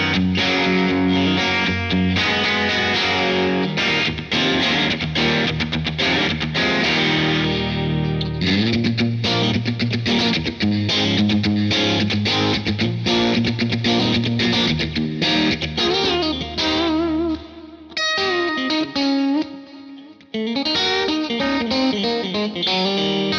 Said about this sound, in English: overdrive tones that sort of pile on as you turn this up.